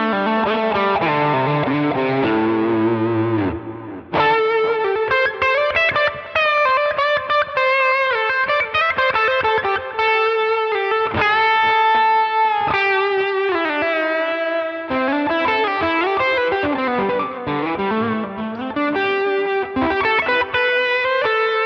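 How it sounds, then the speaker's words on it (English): An electric guitar played on its bridge pickup through a Line 6 Helix Horizon Drive overdrive, giving a steady, saturated distorted tone as sustained chords and riffs ring out continuously at full level. "Here it is with the Horizon Drive."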